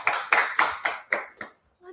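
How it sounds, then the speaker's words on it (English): Applause for an author being welcomed onto a talk show: about six sharp, evenly spaced bursts of clapping, close and fairly loud, that fade into a brief pause before another sound begins. "please give a round of applause for"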